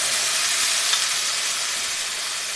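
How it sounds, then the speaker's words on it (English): Steady, close sizzling of a ramen stir fry in a hot pan, a continuous bright hiss with no voices. "it makes a nice little sizzle"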